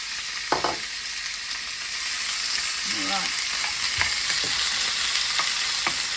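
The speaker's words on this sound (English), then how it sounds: "I cut up some steak. Steak's good. Sizzle. Sizzle. We've got a sizzle." Loud, continuous sizzling of cut-up steak frying in a pan, with occasional scrapes and stirring knocks; a voice briefly speaks near the end.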